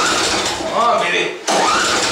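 A Simplicity 924 garden tractor engine cranks on a cold start attempt with the choke on, a loud, close mechanical churning that dips briefly before resuming.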